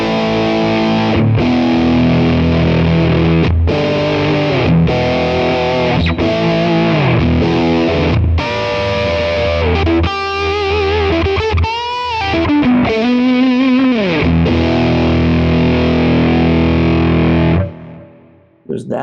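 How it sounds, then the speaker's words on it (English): Electric guitar through an Amalgam T-Bender fuzz pedal capture on a Quad Cortex, playing loud, heavily fuzzed chords and bending lead lines close up for about seventeen seconds before cutting off. "And then last but not least, you have a couple versions of this T-Bender fuzz."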